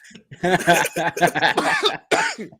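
Several harsh, bursty coughs in quick succession, loud and close, broken by short pauses with a bit of voiced sound between them.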